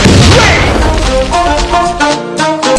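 Loud burst of gunfire and heavy booms while shooting enemies in a Spiderman vs Zombie mobile game, a dense, continuous barrage of blasts with a fast rattling texture over an electronic game backdrop.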